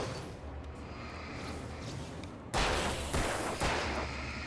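Gunshots from the video game Alan Wake: a few loud, sharp blasts burst out one after another over a low ambient game rumble, each shot followed by a brief echoing tail.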